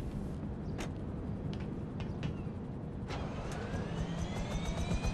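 Helicopter in GTA Online whirs with a steady low rotor and engine drone, a few sharp clicks on top and a rising whine near the end, with no talking.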